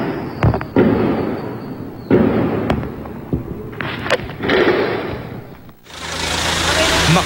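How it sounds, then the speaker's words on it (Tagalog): Gunfire is exchanged in urban combat between Philippine Marines and Maute fighters. Sharp reports crack and echo at irregular intervals near and far, some in quick bursts, over a steady engine-like rumble, with a voice speaking over it. "Dito na nagsimulang umalingaw-ngaw ang sagutan ng mga putok."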